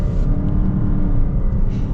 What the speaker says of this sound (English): So let's get up and get our acceleration here at the Ascent.